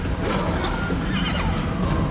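A horse neighs and whinnies in the video game Wrath of the Righteous, loud and close, with clip-clop hooves and game noise underneath for a couple of seconds.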